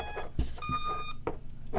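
A freestyle micro drone's electronics sound startup beeps on power-up, giving a few short, bright electronic tones in separate bursts with gaps between them, close and clear with no talking.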